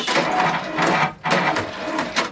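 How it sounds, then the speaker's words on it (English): A Brother embroidery machine fitted with a cap hoop whirs and buzzes as it returns to its default position, steady mechanical noise in two long stretches broken by a brief pause, close and fairly loud. "I'm going to turn it on and it's going to return it to its default position."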